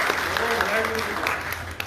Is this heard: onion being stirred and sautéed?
no